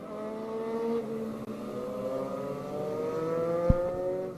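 Chargers division race cars on a racetrack taking turns 3 and 4 on the final lap of the feature race, a layered drone of several engines with shifting pitches, heard from a distance, steady and fairly loud.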